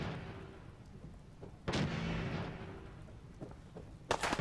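Gunfire in Fallout 4 as the enemy Lunk is shot: two heavy, booming bursts, one midway and another near the end, each ringing out over a low, rumbling background.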